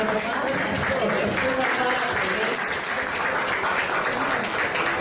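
Sustained audience applause fills the room at an event honouring a guest artist, a dense steady wash of many hands clapping at even loudness throughout, with some voices mixed in.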